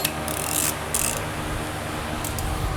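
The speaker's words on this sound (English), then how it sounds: "take your 17 millimeter socket and attack the caliper bracket bolts" A ratchet with a 17 mm socket works on a 2014 Toyota Highlander's brake caliper bracket bolts, with several quick clicking bursts of the pawl between short pauses over a low background, close by.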